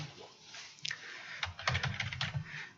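Keys clatter on a computer keyboard in bursts of close, quick clicks, alone in a quiet room during a university class session.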